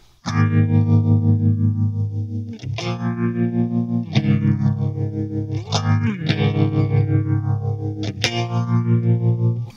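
Intro chords of a song on clean electric guitar with compressor, reverb, tremolo and phaser: five or six strummed chords, each ringing with fast tremolo pulsing and a sweeping phaser whoosh, loud and alone.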